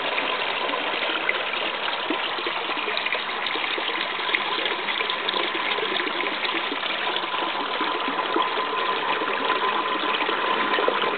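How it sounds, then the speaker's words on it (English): Water is pumped through the feed line of an NFT hydroponic system, a steady trickling, rushing flow with a faint pump hum running unchanged throughout. "There's a little shot of the water getting pumped in through the feed line."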